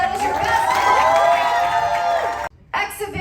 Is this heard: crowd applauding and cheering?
yes